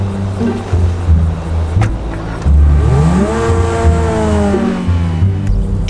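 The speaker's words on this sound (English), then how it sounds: "watch me put my Lambo out" A Lamborghini in GTA 5 revs hard, its engine rising in pitch through a sweeping acceleration, loud and close, with a low rumble beneath and no talk.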